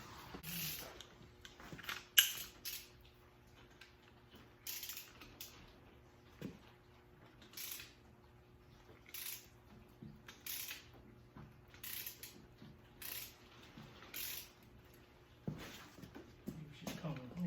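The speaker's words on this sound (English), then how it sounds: "Let me get a socket on there." A socket wrench ratcheting on a bolt during teardown of a 345 engine: short bursts of clicking repeat every second or two, fairly faint, separated by quiet pauses.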